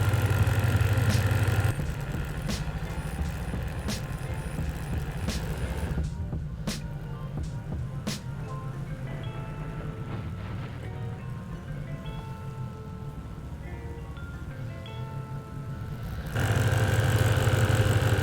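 A rebuilt EAS air-suspension air compressor, unbolted and sitting loose, runs steadily while building pressure, a low mechanical hum with a faint rattling buzz, close and continuous, with a louder background rumble at start and end.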